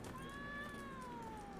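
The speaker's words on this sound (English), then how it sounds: "Hello, cat." A cat meows in The Witcher 3 on Xbox One X: one drawn-out, falling meow, quiet and fairly close, over faint background ambience.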